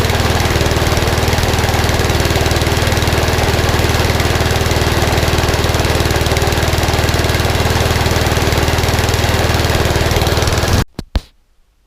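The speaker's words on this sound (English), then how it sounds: "This mower is now up and running" A trash-picked lawn mower engine runs loud and close in a steady, throbbing drone, then cuts off abruptly near the end, leaving a few brief knocks and quiet.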